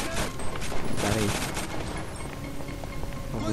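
Rapid bursts of gunfire in GTA V Online crackle continuously, dense and fairly loud, with faint voices mixed underneath.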